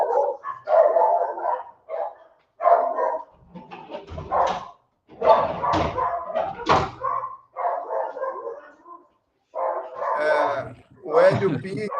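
A small pet dog barks in bursts indoors, loud and close, with some overlapping voice and brief gaps of quiet.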